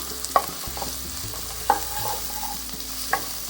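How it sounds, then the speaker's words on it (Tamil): Onions and green chillies frying in a pan for a Pongal mixed vegetable gravy, a soft steady sizzle with three distinct spoon clinks against the pan as it is stirred, no voices. "நல்லா ஃப்ரை ஆகிற வரைக்கும் இந்த மாதிரி கிளறி விட்டுடலாம்."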